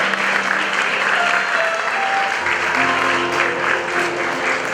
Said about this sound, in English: Please a round of applause for them as they come up.